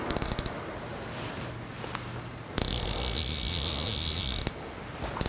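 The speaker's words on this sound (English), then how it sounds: "now we can spool up the reel" A fly fishing reel being wound with backing line gives soft mechanical clicks at first, then a louder continuous ratcheting whir for about two seconds before it stops.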